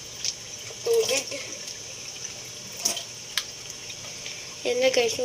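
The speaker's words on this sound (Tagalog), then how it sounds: "Kukunin na pa yung tubig." Water runs from a tap into a sink for face washing, a steady close hiss with brief splashes and clatters, while a person talks intermittently over it.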